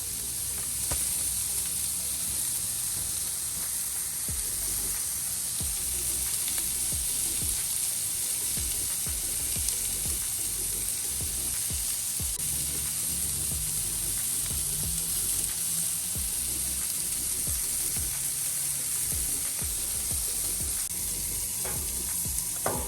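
Mushrooms, peppers, onions and green beans sizzling on a Blackstone griddle outdoors, a steady close hiss with frequent scraping and clicking of a spatula turning them.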